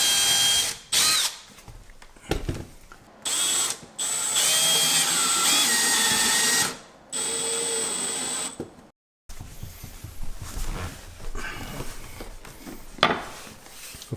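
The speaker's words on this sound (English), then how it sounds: "So I'm just going to countersink and drill some holes for those" A power drill whirs in repeated short bursts, countersinking and drilling holes for finishing screws in a flush register in a hardwood floor, with pauses between holes, close and loud.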